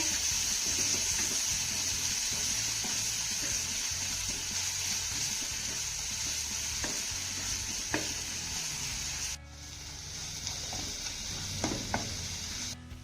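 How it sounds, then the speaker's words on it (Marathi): Green chili paste with a pinch of asafoetida sautés in a pan, giving a steady close sizzle with intermittent scraping stirs throughout; the frying hiss drops a little partway through, then continues with a few more clinks. "ही मिरची आपल्याला एक मिनिट भर छान अशी परतून घ्यायची आहे"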